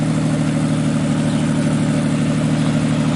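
A 2JZ engine in a drift truck idles steadily, a loud, close, low rumbling drone with a constant even pulse and no voices.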